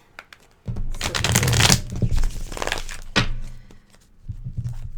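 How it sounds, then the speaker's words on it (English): Decks of tarot cards being shuffled on a table, close and loud, with long riffling rustles broken by a sharp slap and a softer shuffle at the end. "I shuffled each of the decks I'm going to be using."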